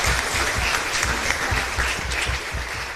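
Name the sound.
applause at church after Mass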